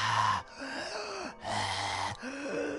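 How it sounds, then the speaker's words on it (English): Heavy, rasping breaths in an animated Sonic scene, alternating loud inhales and exhales in a steady, labored rhythm, close and alone. "the breathing just became louder and louder"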